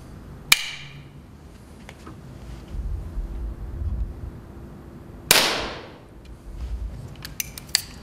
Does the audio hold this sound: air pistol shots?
yes